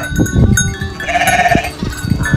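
Sheep and lambs bleat loudly and close by at feeding time on a farm, with several overlapping calls and rustling and shuffling of the animals between them.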